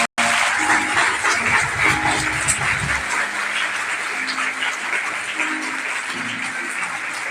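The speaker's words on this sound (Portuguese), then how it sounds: "recebamos os nossos novos pastores com uma calorosa salva de palmas." Warm, sustained applause from a church congregation welcoming new pastors at an Assembly of God installation service, dense clapping filling the room evenly for several seconds with a faint low hum beneath at the start.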